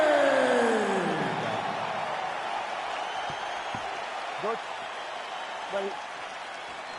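A rowdy arena crowd at a UFC event inside the United Center in Chicago roars and applauds, loudest at the start, then settles into a sustained distant din with faint whistles.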